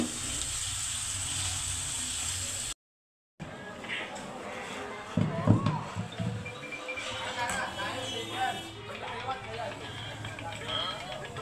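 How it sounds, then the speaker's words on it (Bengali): Lightly fried prawns sizzle in a spiced masala, a soft continuous frying hiss with stirring clatter and a short silent gap, while a person talks over it. "হালকা ভেজে রাখা চিংড়ি মাছগুলো এখন দিয়ে দিলাম মশলার মধ্যে।"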